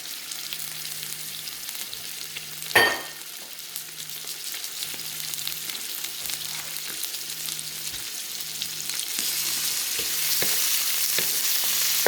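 Half a pound of shrimp lands in a hot pan for a snow pea stir fry with a sharp clatter, followed by a steady sizzle that grows denser and louder, dotted with small pops.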